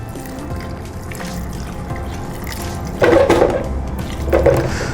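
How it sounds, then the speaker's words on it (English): Water pours into a pressure cooker holding yam pieces, a close, steady trickle that swells into louder splashing bursts twice near the end. "And then I will add water."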